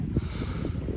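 Wind gusts across a rocky outdoor field-trip site, buffeting the microphone with low, rumbling bursts that pulse unevenly for about a second.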